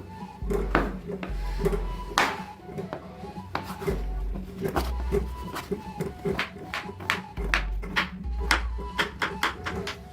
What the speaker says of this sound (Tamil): டார்க் சாக்லேட் நான் சாக்லேட் இப்போ இதை கட் பண்ணி எடுத்துக்குவோம்